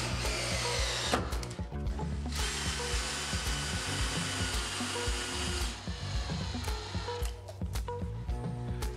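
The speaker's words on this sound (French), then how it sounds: "on les visse en 2 points à travers la lisse" Power drill driving screws through the bottom plate into timber frame studs during a partition renovation, a loud close motor whine in bursts with short pauses and a brief drop between screws.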